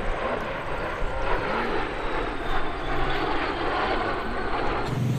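Aircraft engine roar in a video game, a steady loud propeller-like drone with no talk, holding for several seconds before a brief change near the end.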